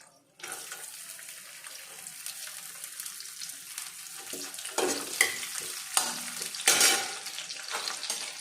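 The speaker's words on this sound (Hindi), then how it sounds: "इसके साथ ही मैं लहसुन डालने जा रही हूँ।" Garlic sizzles in a hot pan while cooking kardi chawal, a steady close frying hiss with occasional stirring scrapes and louder spatters.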